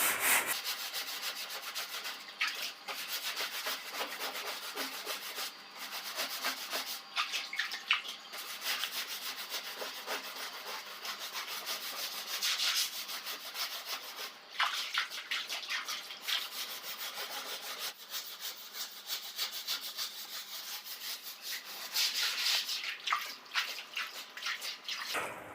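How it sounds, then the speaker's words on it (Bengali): A broom scrubs the inside of a water tank clean in repeated rough rubbing strokes, a continuous scratchy swish with wet drips and faint splashes and no talk. "এইভাবে আমরা পুরোটা ঝাড়ু দিয়ে ঘষে ঘষে পরিষ্কার করবো"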